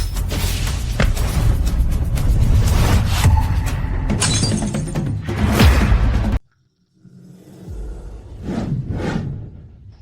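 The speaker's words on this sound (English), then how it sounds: "you smashed it to smithereens" An antique mirror smashing to pieces, a long dense crash of shattering glass with whooshes that cuts off abruptly, followed after a pause by a couple of softer impacts.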